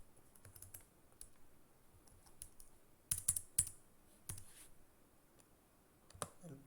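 Code being typed on a computer keyboard: close, fairly quiet key clicks in irregular runs, with a brief louder flurry of presses midway and no talking.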